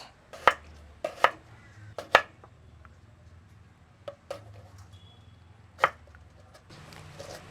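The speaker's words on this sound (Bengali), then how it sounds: "পেঁয়াজটা কেটে নেই একটু কুচু কুচু করে নেবে পেঁয়াজ" A freshly sharpened knife chops onion into small pieces on a board at home, giving close, crisp irregular chops in scattered bursts with quiet gaps and no talking.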